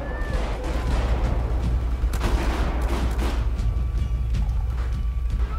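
Continuous gunfire and explosions from the video game Battlefield 4, a dense, loud barrage of shots and booms filling the whole stretch, with faint voices in the mix.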